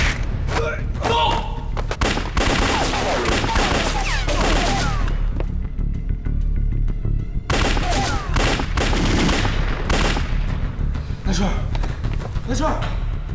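Gunfire volley in a Chinese espionage TV drama set among Nationalist, Communist and Japanese agents: dense bursts of shots and thuds fill the scene, with a brief lull in the middle before firing resumes, under shouting voices.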